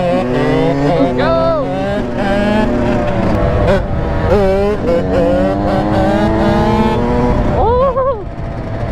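Kawasaki KX 100 two-stroke dirt bike engine revving nearby, rising and falling whines with sharp throttle blips, loud and close, mixed with people talking over it.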